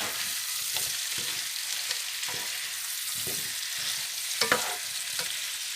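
Soaked potatoes being stirred into a pot of lamb navarin: soft scraping and clattering stir strokes over a steady background sizzle, close and moderately quiet.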